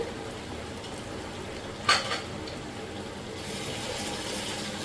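Prawn pepper masala simmers in a pan with a soft, steady bubbling hiss. A single sharp utensil clink cuts through midway, and there is no talking.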